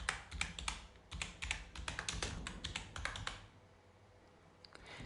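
Rapid typing on a computer keyboard, close and crisp, with irregular bursts of key clicks for about three and a half seconds before trailing off into quiet room tone.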